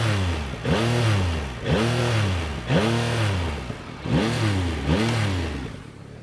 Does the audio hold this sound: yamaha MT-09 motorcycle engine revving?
yes